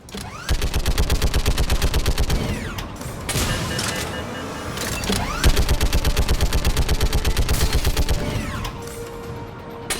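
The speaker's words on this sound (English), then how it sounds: "He was shooting them on the ship, by the way." Rapid automatic gunfire in Mass Effect 3, a loud sustained burst that pauses briefly and resumes in another long dense run, with mechanical clatter between volleys.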